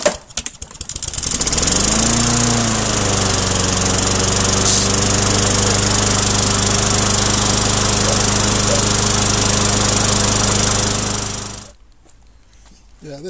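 A lawn mower engine starts, revs up and runs steadily and loudly at close range for about ten seconds, then cuts out abruptly.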